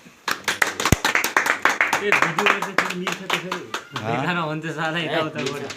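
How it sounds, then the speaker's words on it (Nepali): A group of people claps hands in a loose, irregular rhythm, with bright sharp claps continuing over voices talking and singing close by. "ताली पर्छ सबैले।"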